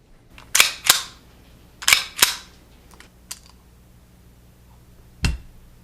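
Crisp mechanical clicks from a Colt 1903 pocket pistol in .38 ACP being function-checked, several close snaps in uneven pairs and singles, then a heavier final click, with no talking.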